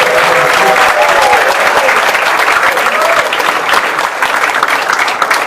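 An audience at a business event at Mundo Plaza in Salvador, Bahia, claps loudly and steadily, the dense applause filling the room without a break.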